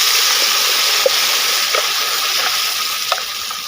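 Masala roasting in ghee with curry leaves for a Mangalore-style crab ghee roast: a steady, loud close-up sizzle with a few faint clicks of stirring, no talk.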